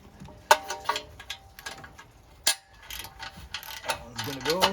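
A socket wrench ratchets on an exhaust manifold bolt of a 1968 Ford F-100, making close, quick bursts of metallic clicking separated by short pauses, with a faint voice briefly in the background.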